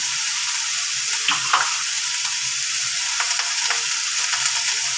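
Mixed vegetables frying in a pan for a small-fish chachchari, a constant soft sizzle with a few light scrapes and taps of a spoon as salt goes in.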